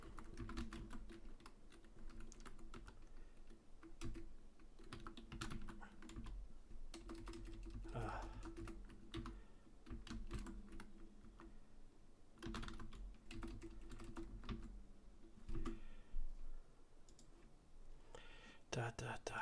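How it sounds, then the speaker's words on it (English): Quiet, fast keyboard typing with clustered clicks and short pauses, interleaved with a voice talking softly, heard at close range. "I'm not good at typing and talking."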